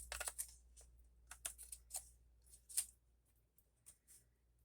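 Quiet, crisp snips of scissors cutting paper close by, several short sharp clicks at an uneven pace.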